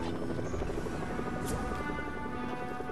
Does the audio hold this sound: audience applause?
no